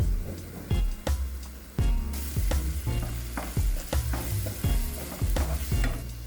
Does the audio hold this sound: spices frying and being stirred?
yes